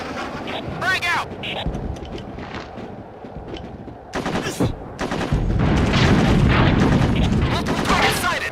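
A grenade detonates during a firefight in the original Ghost Recon video game, loud booms and bursts of gunfire crackling across the scene, with dense battle noise swelling toward the end and game voices in between.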